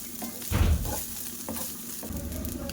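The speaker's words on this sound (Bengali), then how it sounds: "দিয়ে ভালো করে চালটা ভাজা করে নেব।" Turmeric-coated rice with raisins frying in a pan, a continuous close sizzle broken by several stirring scrapes, the loudest one early, with no talking.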